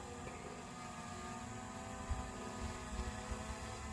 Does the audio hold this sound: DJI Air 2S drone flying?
yes